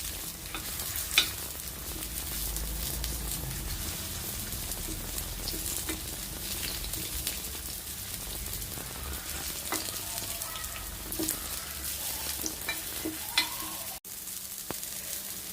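Small balls of rava and banana batter fry in hot oil, giving a steady broadband sizzle with occasional stirring clinks and a brief sharp tap near the start, with no voices.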